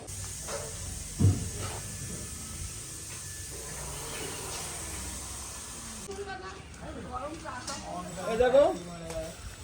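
A pressure cooker of dal in a morning cooking area hisses steam steadily and fairly loudly for about six seconds, then fades as kitchen clatter and people talking take over.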